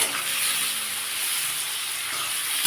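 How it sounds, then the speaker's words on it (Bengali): Fairly large shrimp fry in a pan, giving off a steady, bright sizzling hiss that holds evenly for a few seconds with no talking. "চিংড়ি মাছটা একটু ভেজে নিচ্ছি"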